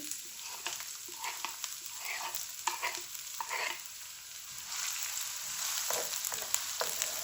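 Onions frying in a cup of oil in a wok, a steady bright sizzle with repeated stirring scrapes and clatters, close and continuous with no talk.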